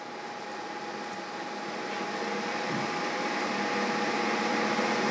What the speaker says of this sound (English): So the motor is at 1200 RPM now, and the torque is not that much.